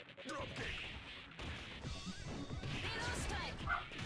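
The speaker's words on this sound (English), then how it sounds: "Don't mind my dog, sorry." A pet dog barks and yips in the background of a Capcom vs. SNK tournament stream, short sharp barks scattered through busy game audio, with people talking over it.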